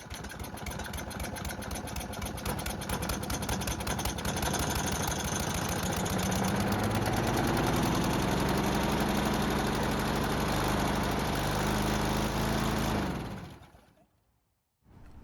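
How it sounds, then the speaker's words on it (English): A stuck lawn mower engine starts and runs rough, its uneven chugging and sputtering close and steady for several seconds before it cuts out to silence. "Well, it started and ran and continued to run, however, it didn't sound great"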